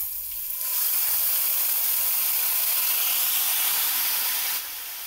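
Two medium tomatoes, finely chopped, hit hot oil and erupt into a loud, sustained hiss that holds steady for several seconds before easing back, up close with no talking.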